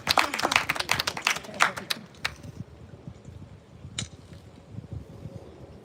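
An audience at a poetry festival gives a quick burst of clapping that dies out after about two seconds, followed by a quiet room with a faint knock and scattered small noises.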